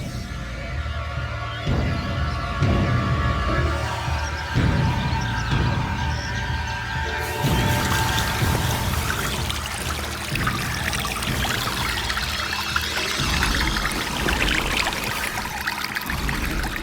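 Water pours and trickles steadily as a tank is drained through a pipe, a continuous wet rush with shifting gurgles that stays loud and close throughout.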